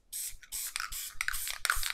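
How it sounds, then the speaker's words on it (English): Short bursts of Distress Mica Spray Stain are misted onto a card, several quick hissing sprays in irregular rhythm with brief pauses between them, close and fairly soft, with no talking. "I'm going to spray this"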